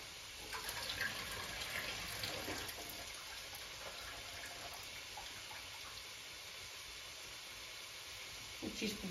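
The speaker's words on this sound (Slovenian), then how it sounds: "U međuvremenu možete iscijediti vodu iz" Water squeezed out of thawed frozen broccoli in a home kitchen while cooking prawns with leek and macaroni, a faint continuous trickle and splash like a tap running into a sink, with light clatter at the start and end.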